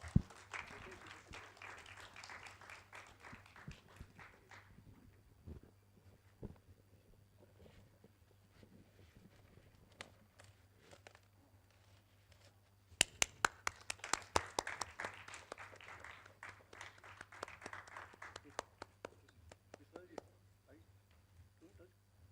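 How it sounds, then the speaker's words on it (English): An audience at the Dadasaheb Phalke International Film Festival Awards 2021 press conference claps for a trophy unveiling, two bursts of moderate room applause separated by a quieter stretch with scattered claps. "Can we please have a big round of applause?"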